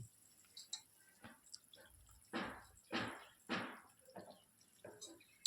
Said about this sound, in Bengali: জলটা ফুটে গিয়েছে এবার আমি মাছগুলো ছেড়ে দিচ্ছি